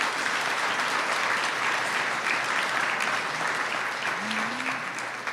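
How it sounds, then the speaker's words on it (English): Sustained applause from a school board meeting audience honoring a veteran board member for ten years of service, steady and full throughout, with a brief voice rising near the end. "Let's give him a round of applause."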